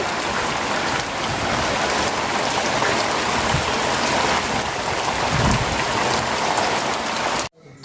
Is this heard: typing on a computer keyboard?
no